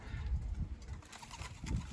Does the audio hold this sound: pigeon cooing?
yes